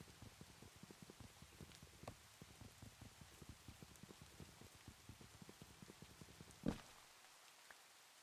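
Steady rainfall in the Minecraft modpack TerrafirmaGreg, a faint, even patter of drops with one brief louder thump near the end.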